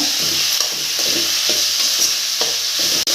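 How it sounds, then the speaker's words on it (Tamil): Onions and tomatoes sauté loudly in a pan for a coconut-milk fish curry, a dense close sizzle broken by rhythmic scraping stirs and a brief dropout near the end. "பாருங்கள் வெங்காயம் தக்காளி எல்லாம் நல்லா வதங்கிடுச்சு"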